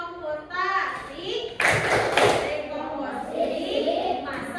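Children in a classroom perform a rhythmic clapping chant together, their sung voices joined by a burst of group claps midway, close and lively, with an adult voice leading.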